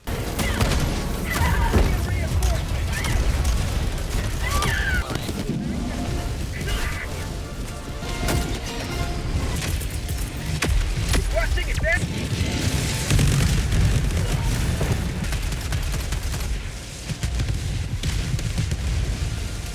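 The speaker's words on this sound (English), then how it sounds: "Sometimes the explosions are so in your ear loud that it almost makes you deaf" Repeated booming explosions and gunfire from a chaotic Helldivers 2 battle, loud and continuous, with a voice talking over the action.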